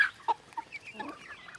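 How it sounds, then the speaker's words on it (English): Brahma chickens cluck softly close by, a few short clucks followed by a run of quieter murmuring calls, with no talking. "There's Buffy, our big Brahma."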